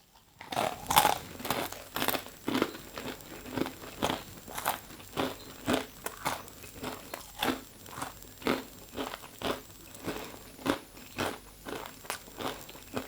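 Xiao Pang brand baked green peas being eaten up close, with a steady run of sharp crunchy bites and chewing, roughly two per second, plus some packet crinkling and no talk.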